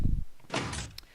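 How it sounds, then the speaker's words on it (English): A heavy door in a Minecraft maze shuts behind the player: a low thump, then a sliding, grinding close and a small click at the end, brief and fairly loud. "when you enter the maze, the door closes behind you and you're stuck in here"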